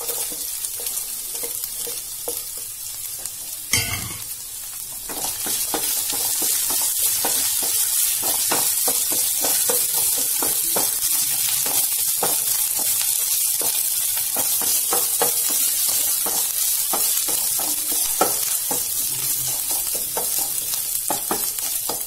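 Green chilies sizzle and fry in a pan with soya chunks, a steady loud crackle running throughout with stirring clatter and scraping; a sharp clunk lands early, then the frying swells and holds, with no talking.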